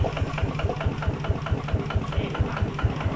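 A small Kubota RT140 Plus diesel engine idles steadily nearby with a fast, even chugging pulse and no talk over it.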